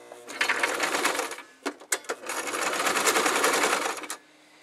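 A sewing machine stitches fabric for a pencil pouch, working around curved circle pieces. It makes a steady, close whirring run, pauses for a few quick stitch bursts, then runs steadily again.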